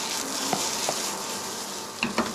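Pieces of trout for a tataki are stirred together in a bowl, giving soft wet squelches and a few light clicks and knocks against the bowl over a faint background hiss.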